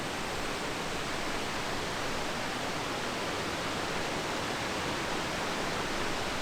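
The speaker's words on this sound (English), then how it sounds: "I didn't even know these falls were down here." Waterfall at High Falls State Park on the Towaliga River, a steady, dense broadband roar of falling water with no breaks, close and constant throughout.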